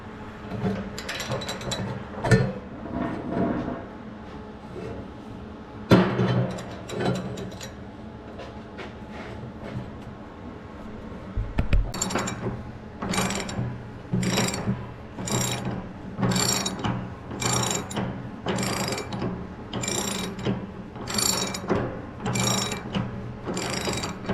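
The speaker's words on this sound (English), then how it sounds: "it's a lot easier to take these off with the cheater bar" A cheater bar working loose the valve on a propane tank, with a steady series of sharp metallic ratcheting clicks and clanks, close and fairly loud, with no talk.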